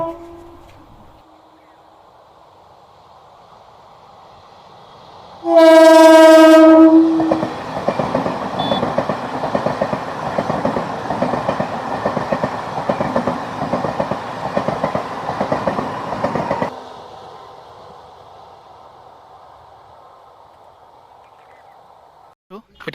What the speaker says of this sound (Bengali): ট্রেনটি ছুটে আসছে আমাদের দিকে